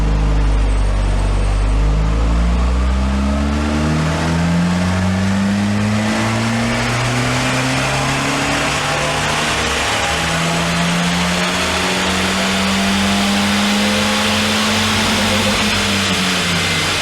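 A 1998 Citroen Saxo VTR runs on a dyno on E10 unleaded, its engine revving loud and close in a long, steadily climbing pull that holds high for most of the run.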